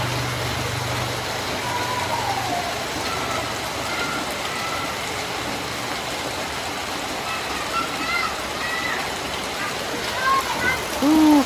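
Heavy rain pours steadily over a flooded home during a storm lasting several days, a dense even hiss throughout with a brief low rumble at the start and faint stray tones near the end.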